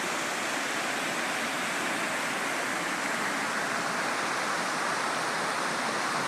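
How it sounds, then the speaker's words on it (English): A small brook feeding into a stream in East Haddam, Connecticut, with steady broadband rushing water that holds an even, continuous level throughout, close and alone with no voices. "There's another little brook that feeds down into"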